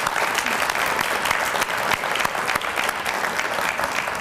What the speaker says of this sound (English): So got to give her another round of applause.